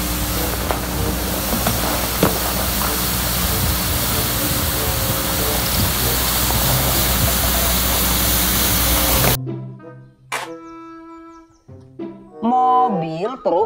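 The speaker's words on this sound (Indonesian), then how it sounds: "Mobil truk pembersih jalan" Toy street cleaner truck giving off a loud continuous hissing, spraying whoosh with a low motor hum for about nine seconds, then sharp electronic tones and a short wavering jingle.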